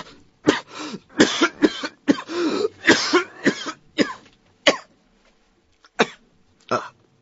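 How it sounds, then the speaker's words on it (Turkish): A man in a Turkish radio drama coughs in a series of harsh, raspy bursts, clustered and repeated in a ragged rhythm, then sparser single coughs after brief pauses, close and loud with no talk over them. "Ah, öksürük."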